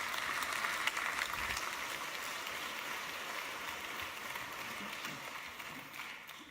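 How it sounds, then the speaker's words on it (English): Warm audience applause welcoming the mayor of Bonn at the opening of a media forum, a sustained, even roar of clapping from a large hall that gradually thins and fades near the end. "Welcome, with a warm applause,"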